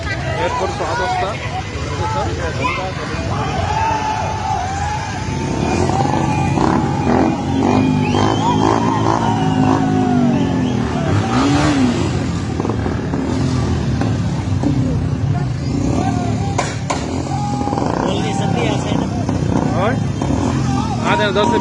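Motorbikes rev and pass at a crowded airport in Nepal, with engine surges rising over constant crowd chatter and voices talking nearby.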